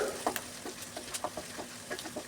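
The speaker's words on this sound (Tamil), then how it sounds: "பெரிய வெங்காயம் போட்டு நல்லா வதக்கிக்கணும்" Sliced big onion, two dried red chillies and curry leaves sauté in oil in a pan, giving a soft sizzle broken by intermittent spoon scrapes and stirring clicks, close and fairly quiet.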